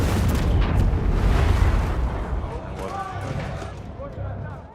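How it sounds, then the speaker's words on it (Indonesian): A deep, rumbling blast fills the clip, heavy low-end roar that slowly fades, with faint voices or tones rising near the end. "mereka dikejutkan oleh suara ledakan lain"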